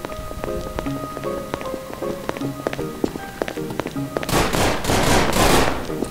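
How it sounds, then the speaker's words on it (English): Bursts of rapid gunfire in the Garry's Mod 1942 roleplay game, crisp repeated cracks followed by a denser noisy burst of shots near the end. "Shots fired."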